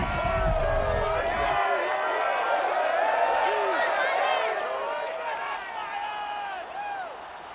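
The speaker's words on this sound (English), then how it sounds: "A good crowd on hand and seemingly ready to go in the Motor City." A packed 65,000-seat crowd at Ford Field in Detroit roars steadily throughout an EA Sports NFL Packers–Lions game, a dense wash of cheering and whooping voices that stays loud before easing slightly toward the end.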